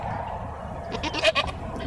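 A goat gives a short, wavering bleat near the end over a low background murmur, close and fairly clear.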